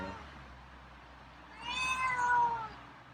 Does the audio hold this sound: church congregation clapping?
no